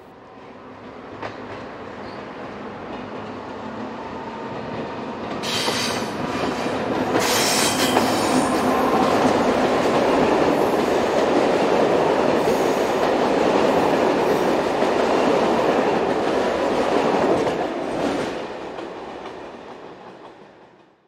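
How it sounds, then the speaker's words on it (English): A passenger train hauled by French locomotive 15001 departs from Nancy, its rumbling wheels and clattering cars building in loudness and passing close, with brief squeals, before fading away. "number 15001 departs with the 1736 from Nancy to Longwy"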